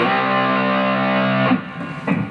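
Distorted electric guitar plays a lick from the ZZ Top "Sharp Dressed Man" solo, one sustained note held for about a second and a half before two short picked notes, loud and alone.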